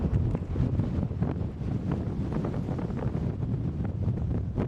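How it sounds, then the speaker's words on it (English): Blizzard wind with blowing snow, a loud continuous buffeting roar with gusty bursts striking the microphone, and no voices. "Continuous blowing snow created massive drifts measuring 8 to 10 feet high."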